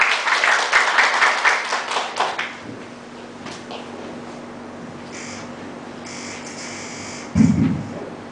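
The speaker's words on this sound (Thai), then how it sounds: "ขอเสียงปรบมือต้อนรับพี่ปอทองนะ" Applause welcoming a guest speaker at a meeting, a short burst of clapping that fades within a few seconds, then a quiet room with faint noises and a brief bump near the end.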